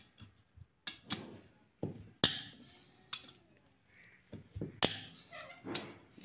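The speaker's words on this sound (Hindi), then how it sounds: "आप इस बोल्ट की एक आवाज़ सुन सकते हैं" Sharp metallic clicks and knocks at irregular intervals, close up, as a wrench loosens a bolt on a Suzuki Alto 1000cc engine during an overhaul, with short quiet gaps between them.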